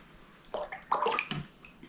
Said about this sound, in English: Now I'm going to wash the paint from the brush and dry a little bit.